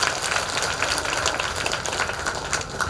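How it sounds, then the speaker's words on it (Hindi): Audience applause at an achievers' award ceremony, a continuous crackle of many hands clapping at moderate loudness, steady for the whole stretch without speech. "जोरदार ताली आप लोगों के लिए।"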